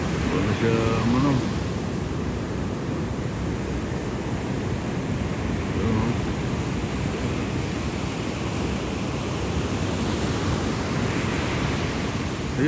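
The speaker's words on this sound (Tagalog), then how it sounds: "Ilang araw na raw ganito yung alon" Rough ocean surf rolls in with a constant, broad roar that persists throughout, mixed with wind buffeting the microphone, loud and close.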